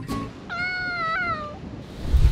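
A cat on an island gives a single drawn-out meow, clear and fairly close, with low background rumble and no voices.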